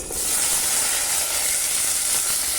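Small onions frying in a clay pot over a wood-fired stove make a steady, loud, broad hiss and sizzle that holds evenly throughout, with no talking.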